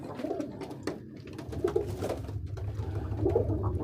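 Pigeons in a breeding loft coo in soft, low, repeated bursts close by, several birds overlapping against faint rustling and background noise.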